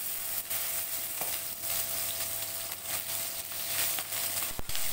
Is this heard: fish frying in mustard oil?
yes